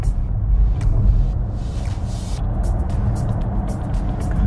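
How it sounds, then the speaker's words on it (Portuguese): A 2021 Mercedes-Benz EQC electric car pulling away hard, heard from inside as a loud low rumble of road and tyre noise with a faint electric whine, steady and close, with no engine roar. "O carro simplesmente dispara quando eu finco o pé no acelerador."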